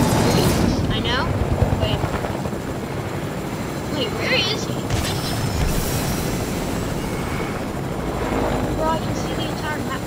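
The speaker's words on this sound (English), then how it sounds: "Oh, that's probably a Choppa. You know, we're not gonna go. Okay, I hear another Choppa." A helicopter in the video game Fortnite makes a steady rotor and engine drone under a player's talk, with occasional game sounds on top.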